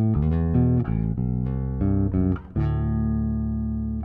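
An electric bass guitar played through a GR Bass Cube 800 amplifier plucks a run of clear, sustained notes, loud and close, with the last note ringing out alone.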